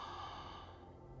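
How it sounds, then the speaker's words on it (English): A steady, soft breath drawn in and released through the mouth during a yoga session, close and breathy, with no voices over it. "Another breath in and out."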